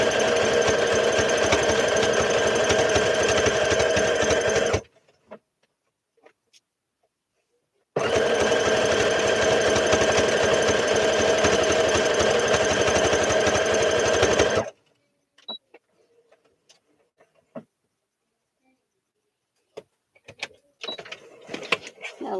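A sewing machine stitches a top stitch in two long steady runs of about five and seven seconds, a loud rapid mechanical whir close by, separated and followed by near silence with faint handling clicks.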